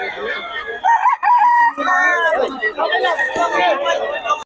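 Chickens and roosters at a Bocaue poultry market crow and cluck loudly and close, overlapping calls filling the space while someone talks over them.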